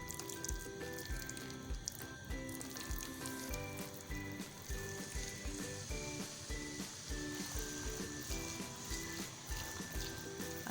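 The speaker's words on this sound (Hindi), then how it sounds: "उसी तेल में थोड़ा सा तेल हमने निकाल लिया है। 1/4 टीस्पून के करीब तकरीबन ये तेल है। इसके अंदर हम ऐड कर देंगे कीमा।" Minced meat (keema) sizzles in a small spoonful of hot oil, a faint continuous crackle with soft pops over a quiet kitchen background.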